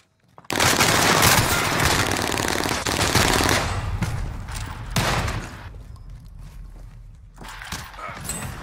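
Video game gunfire: a loud, sustained burst of rapid automatic shots with a few later bursts after a brief pause, close and dominant with no talk over it.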